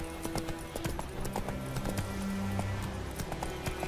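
The horse Roach gallops in The Witcher 3 with brisk, rhythmic clip-clop hoofbeats over a busy game soundscape. Short tonal effects and faint background noise sit under the running hooves.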